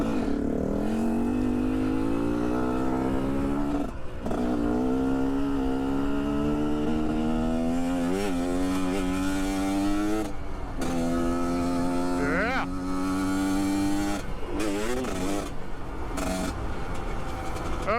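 GPX Moto TSE250R motorcycle engine while riding, revving up through gears with rising pitch sweeps and short gaps at each shift, loud and close throughout with no talk.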